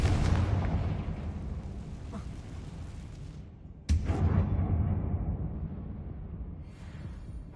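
A Confringo fire spell blasts in Hogwarts Legacy inside a closed mine resembling a tomb: a loud roaring explosion rumbles and decays, then a second sharp burst hits midway and fades into a long rumbling tail.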